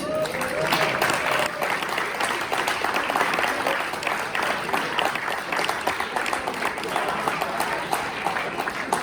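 An audience gives sustained applause for a singer before a concert at an Electrolux roadshow, steady dense clapping filling the whole stretch at moderate loudness with faint voices beneath.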